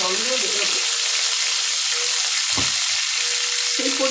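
Crushed tempering spices and torn bay leaves sizzle in hot oil for a chicken curry, a loud, steady frying hiss with a brief clatter partway through and some faint tonal sounds.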